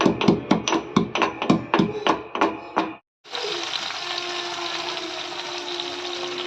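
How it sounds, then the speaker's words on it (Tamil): Garlic cloves are pounded in a mortar with about ten sharp, rhythmic thuds, followed by a brief pause and then a steady sizzling hiss from a pan. "நான் ஒரு 10 பல்லு பூண்டை இடிச்சுக்கிறேன்."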